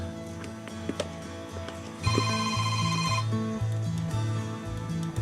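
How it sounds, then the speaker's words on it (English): A mobile phone rings in a home kitchen during fried pickle preparation: quiet room tone, then a loud, repeating melodic ringtone kicks in and keeps cycling its short pattern without pause. "Let me turn off my phone."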